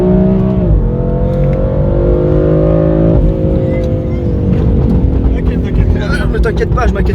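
BMW M4 with a Milltek exhaust line revving hard, a loud, continuous engine roar with pitch steps and shifts, voices talking over it.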